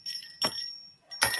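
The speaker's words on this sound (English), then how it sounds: "So there are the keys with the bottles and the bells." A handmade witch's bells charm of small bells strung together with keys and glass bottles, clinking and jingling in two short bright bursts with a soft ringing tail between them, close and clear.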